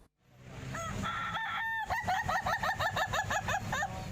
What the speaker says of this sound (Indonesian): Suara ayam ini sungguh mencuri perhatian.